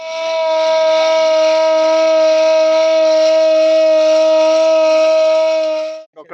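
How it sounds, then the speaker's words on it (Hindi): A civil defense siren blares during a mock drill in Dehradun, a loud, steady, nearby wail holding one sustained tone for about six seconds before cutting off abruptly. "देहरादून में भी 5 जगह सायरन बजाए गए"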